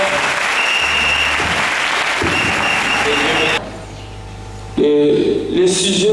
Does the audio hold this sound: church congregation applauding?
yes